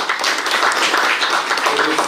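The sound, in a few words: applause for the tournament team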